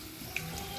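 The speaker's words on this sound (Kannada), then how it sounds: "ಈಗ ನೀರು ಹಾಕ್ತೀನಿ ನೋಡಿ" Water poured into a cooking pan makes a brief, continuous splashing gush, close and steady for under a second.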